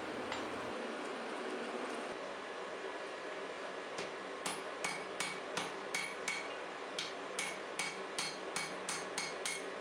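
A smith hammers a stack of ten Damascus steel layers during forge welding, with steady metallic blows ringing out at a regular rhythm over a roaring forge background, growing more frequent toward the end.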